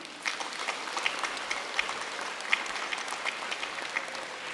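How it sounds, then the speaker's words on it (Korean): An audience at the opening ceremony of a national YMCA children's judo tournament applauds an introduced guest, many hands clapping steadily with a few sharper individual claps standing out. "박수 한 번 부탁드리겠습니다"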